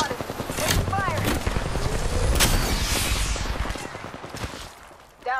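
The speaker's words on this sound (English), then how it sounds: "I'm spotted. Taking fire." Rapid gunfire from an Apex Legends match, dense bursts of shots rattling close and loud for several seconds before tapering off, with a brief voice cutting in near the end.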